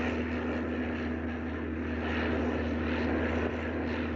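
A propeller airplane drones steadily overhead, its engine hum and airscrew throb constant and moderately loud throughout, with no voices over it.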